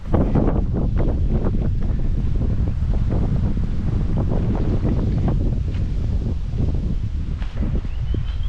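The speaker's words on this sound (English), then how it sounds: "Damn wind." Strong wind buffets the microphone outdoors at a flooded riverside reserve in Murray Bridge, a loud, constant rumbling roar with gusty thumps that never lets up.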